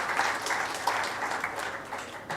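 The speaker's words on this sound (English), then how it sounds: "Please give a big round of applause." An audience at a medical conference applauds in a steady wash of clapping, moderately loud and sustained for a couple of seconds with no talk over it.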